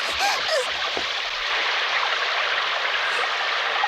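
A river rushes steadily toward waterfalls in an animated cartoon scene, a continuous broad wash of flowing water with a few faint splashes early on.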